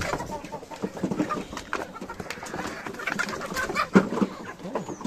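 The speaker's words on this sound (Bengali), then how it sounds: "এই যে কীভাবে খাচ্ছে মুরগিগুলো।" Pigeons or doves gathered at feed dishes on a Bangladeshi farm, with close, continuous soft clucks and low coos and light pecking at the grain, no talking over it.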